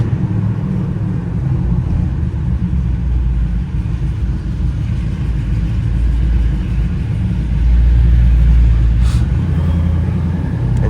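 Cabin view of a 2010 Ford Mustang GT automatic being driven with its engine running rough, giving a loud, steady low rumble that swells slightly partway through, no talking.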